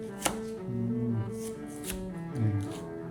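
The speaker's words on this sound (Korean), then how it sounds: "칼질 한번 해보실래요?" A kitchen knife minces green onion and seaweed on a cutting board for dumpling filling, making quick, close, irregular chopping taps and scraping rubs, with a few faint background sounds and no clear talk.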